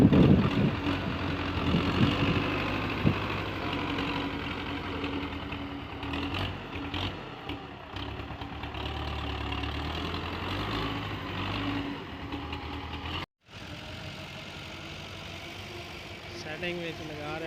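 A Belarus 510 tractor fitted with a front blade runs with a steady, close diesel rumble throughout, its engine note shifting slightly under load, with faint voices in the background.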